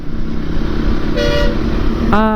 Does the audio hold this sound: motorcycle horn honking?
yes